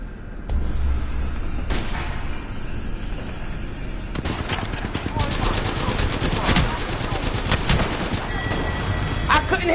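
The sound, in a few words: shotgun gunfire in a video game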